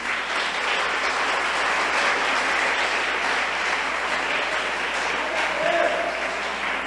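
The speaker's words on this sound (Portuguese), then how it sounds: "Aplaude a Jesus." A church congregation applauds, a dense and continuous clapping that stays steady and loud throughout.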